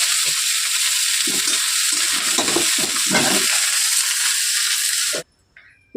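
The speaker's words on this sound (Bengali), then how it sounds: "কপিগুলো আমরা একটু ভেজে নেবো।" Cauliflower florets fry in hot oil in a wok with a loud, continuous sizzle and occasional stirring scrapes, then the noise cuts off abruptly near the end.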